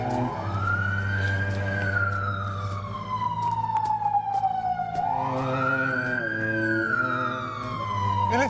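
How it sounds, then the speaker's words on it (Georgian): An ambulance siren wails in slow rising and falling sweeps, loud and close over a low engine rumble, two full cycles with no talk over it. "სასწრაფო მოვიდა."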